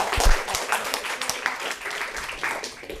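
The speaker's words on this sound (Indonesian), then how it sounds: "Beri tepuk tangan untuk Dek Rina" A small group in a university lecture claps for a student named Rina, giving short, uneven applause that starts loud and then tapers off.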